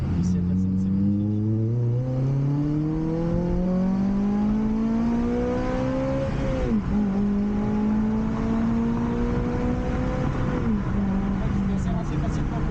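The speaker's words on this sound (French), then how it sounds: "On va se faire un petit test d'accélération et bruit ici." A Honda Civic Type R's VTEC engine revs up hard through the gears, its rising whine climbing steadily, dropping at a shift, then climbing again, loud and close with a voice talking over it.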